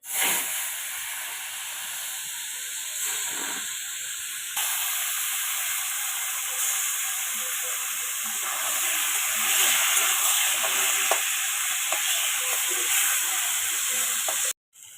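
Turmeric-coated Bombay duck (loitta fish) fries in hot oil with a loud, continuous hissing sizzle that stays close and steady for nearly the whole stretch before cutting off abruptly.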